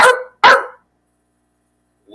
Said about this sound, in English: Can we get a dog bark for DM?